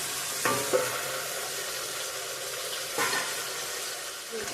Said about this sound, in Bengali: আগে ঢেকে দিয়ে কষিয়ে নিই